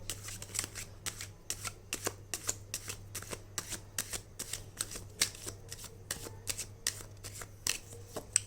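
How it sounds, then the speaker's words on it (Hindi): Tarot cards are shuffled by hand in a quick, regular series of crisp riffles, close and fairly quiet over a faint steady hum. "One last time shuffling."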